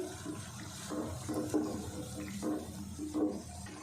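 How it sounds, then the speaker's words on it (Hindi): Boiled chana dal is poured from a vessel into fried masala for palak chana dal, a soft sloshing, gurgling pour in several close waves of liquid with no talk. "अब डाल देते हैं इसमें दाल।"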